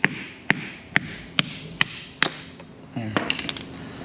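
A hammer strikes a 14mm socket to drive out a rusted rear shock mount bearing on a Mazda Miata: six evenly spaced sharp metallic blows, then a brief cluster of lighter clinks and rattles.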